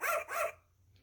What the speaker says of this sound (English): Somewhere she could hear Foo Foo barking